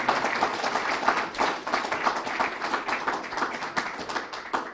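Modest audience applause at a smart healthcare quarterly event, steady hand clapping from a small group, fairly quiet and continuous for under five seconds with individual claps audible.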